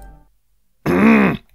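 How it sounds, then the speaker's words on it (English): A single short, voiced grunt-like noise made by a person hiccuping and clearing the throat at once, loud and close in an otherwise quiet room. "Hiccuping and clearing my throat at the same time."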